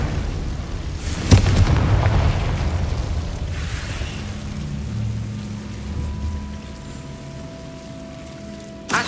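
Confringo fire spell blast in the Hogwarts Legacy video game: a sudden heavy boom followed by a long crackling, rumbling decay, then softer magical hums and a faint tone, with no voices.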